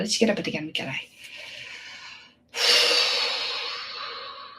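Deep, audible breathing close to the microphone: a long drawn breath with a snort-like start, a brief pause, then a strong, airy exhale that slowly fades.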